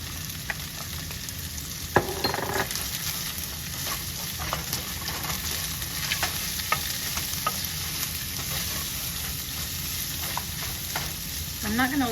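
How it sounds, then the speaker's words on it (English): Garlic frying in a pan gives a steady close sizzle, with occasional stirring and scraping strokes and a sharp knock near the start, no one talking. "gonna toss in my garlic."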